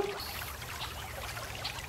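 Steady broadband rush of the Verne stream feeding the Vessière watermill at Neuvic in Périgord blanc, a continuous close trickle and pour of water with no voices.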